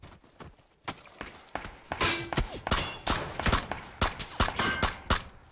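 Video game gunfire cracks out in rapid, sharp bursts, some single shots and some clustered volleys, loud and close, with occasional thuds and scuffling between shots.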